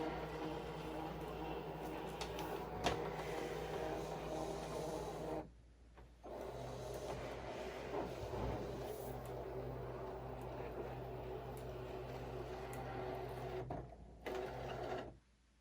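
A fabric cutting machine scans a loaded mat of dark fabric, giving a steady mechanical whir and rubbing motor hum that briefly drops out twice, close and fairly loud with no talking.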